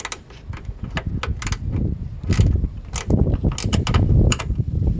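Ratchet working a bolt loose on the headlight washer assembly of a Mercedes SEC, a run of quick sharp clicking bursts close by, interspersed with rustling handling noise.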